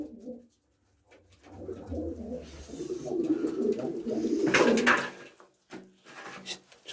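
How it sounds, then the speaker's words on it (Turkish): An Arab pigeon cooing nearby in a loft: soft, throaty rolling coos that swell through the middle and end with a brief rustle or clatter. "Arap güvercinimiz şu arkadaşlar"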